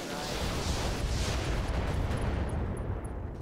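Mech weapons firing in the BattleTech game Roguetech, a dense sustained roar of booming fire and explosions with rumbling impacts, loud and continuous, with faint high pings near the end.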